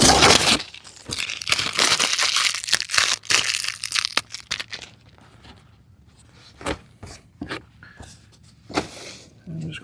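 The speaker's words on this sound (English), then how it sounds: "I do need to get this cellophane tape off of it" Cellophane tape being pulled off cardboard during spring berry planting on a homestead: a busy stretch of crackling, tearing crinkle up close, then sparse sharp rips and rustles.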